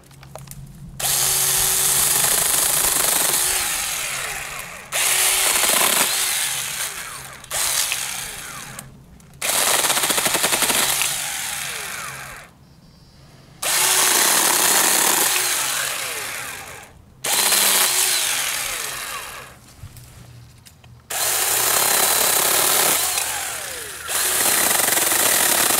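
A small battery-powered mini chainsaw cuts through tree branches in repeated bursts, each a loud buzzing whine lasting a few seconds, separated by short quiet gaps.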